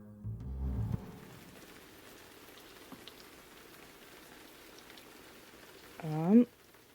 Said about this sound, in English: the sound of the rain on the warehouse ceiling and the warehouse roof